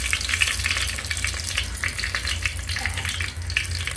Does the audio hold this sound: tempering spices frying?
yes